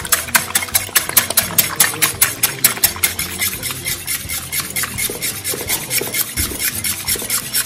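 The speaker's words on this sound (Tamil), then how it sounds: "எக் உடைச்சு இப்படி பீட் பண்ணும்போது சேம் சைடு பீட் பண்ணணும்" Eggs being beaten steadily in one direction for a gluten-free carrot cake batter, a fast, regular rhythm of close, loud whisk or fork strokes scraping against the bowl, continuing alone without any talk.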